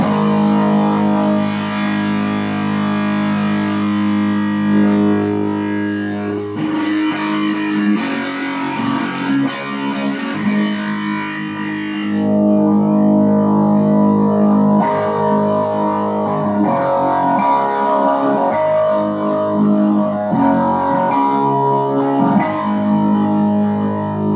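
Electric guitar through an Electro-Harmonix Big Muff fuzz pedal, thick fuzz distortion, sustained chords and notes ringing out loud and saturated, played alone with no voices.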